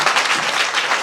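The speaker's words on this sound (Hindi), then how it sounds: "जोरदार ताली बजाइए।" A church congregation claps at a Christmas service, a brief burst of dense, loud applause.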